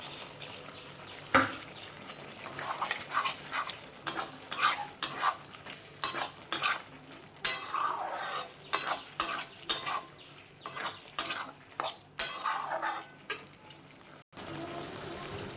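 Potato and capsicum pieces sautéed in a spiced curry base with curd in a pan, a paneer aloo curry, giving repeated stirring scrapes and clatters of a spoon against the pan over a low sizzle, close and fairly loud.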